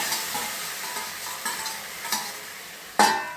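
Cooked, finely chopped spinach being stirred into a hot sizzling pan, with a light steady fry hiss and several distinct spoon scrapes and clinks, the last one sharper and louder, no talking.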